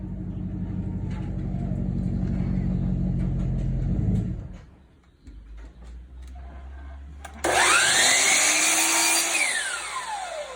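A power saw cuts wainscot cap trim: a low motor rumble runs first, drops away briefly, then a loud, high whining blade spins up and bites through the wood, close by with no voices.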